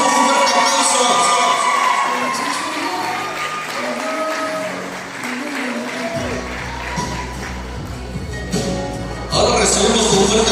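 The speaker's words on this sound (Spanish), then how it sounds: "Vamos a recibirlos con un fuerte aplauso." Crowd cheering and applauding at a quinceañera party, a dense continuous roar of clapping and shouting voices with music in the background, loud throughout and swelling again near the end.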